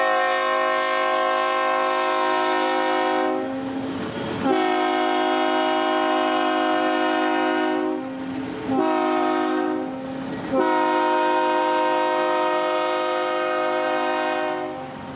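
A festive holiday excursion train sounds its horn at sunset in a series of loud, sustained chord blasts with short breaks between them. The train is close by, and the blasts dominate over the passing rumble.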